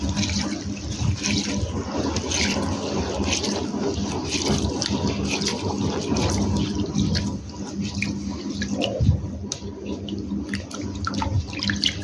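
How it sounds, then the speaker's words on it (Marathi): Water swishes steadily as split mung dal is rinsed in a bowl in a home kitchen. The splashing is close and continuous, with no speech. "ही डाळ आता 1-2 वेळेस चांगली धुवून घेते"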